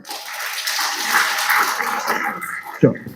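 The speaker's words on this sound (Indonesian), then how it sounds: "Tepuk tangan untuk Bunda." A crowd at an Islamic lecture during an anniversary gathering in Surabaya breaks into a soft, blurred wash of applause that holds steadily, then ends with a short louder knock or voice near the close.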